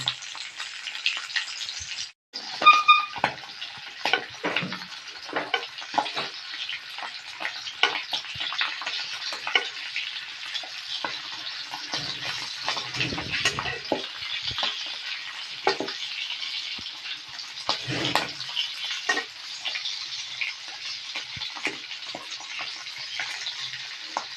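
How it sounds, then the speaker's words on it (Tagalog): Dried fish sizzles and crackles steadily as it fries in oil in a pan, a dense continuous hiss with scattered pops throughout. "Ngayon magpiprito tayo ng tuyong isda."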